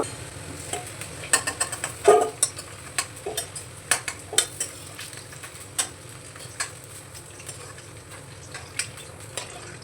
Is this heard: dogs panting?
no